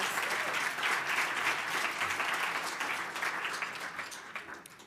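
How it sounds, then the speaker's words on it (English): An audience at a spring celebration gala applauds event staff, a dense, sustained wash of clapping from many hands that holds steady for several seconds before beginning to thin out. "So can we just give them a really nice applause?"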